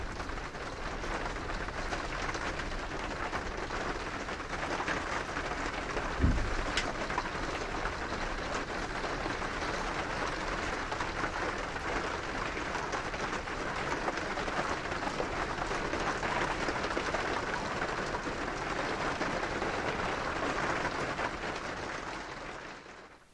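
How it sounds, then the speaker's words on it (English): Steady rain drumming on the roof of an RV, heard from inside as a dense, continuous broadband patter that holds even and fairly loud throughout, with one brief thud partway through. "This is what it sounds like inside an RV when it's raining."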